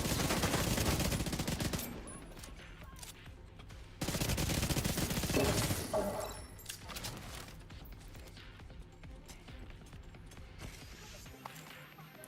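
Sniper and other gunfire from The Division 2 video game, with repeated bursts of shots, loud stretches around the start and middle that fade to quieter, scattered fire.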